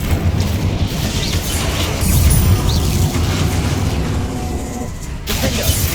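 The Incendio fire spell goes off in Hogwarts Legacy, a loud, roaring burst of flame and rumbling impact amid continuous combat noise, with a sharp crackling flare near the end.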